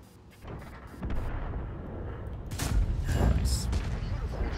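STRV tank gun firing in World of Tanks, a heavy booming blast midway that rolls into sustained rumble and mechanical clatter, loud and close.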